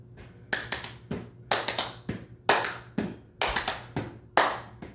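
Hands clap in quick bursts between volleyball sets during a beginner setting drill, six separate clusters of sharp claps spaced about half a second apart, close and fairly quiet with a low hum beneath.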